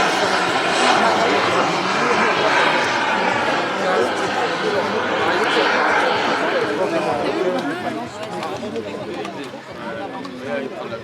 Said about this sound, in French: le Rafale est quand même capable de pouvoir faire des passages à grande vitesse, mais aussi des passages très lents